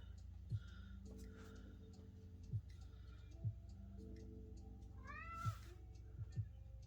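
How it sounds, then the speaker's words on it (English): A cat meows a few times over a low steady hum, with soft thumping pulses scattered between the calls. "my cat is visiting again, so you're going to hear him"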